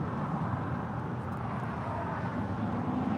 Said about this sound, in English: This is JetBlue Airways Flight 1524 departing to JFK on an A321neo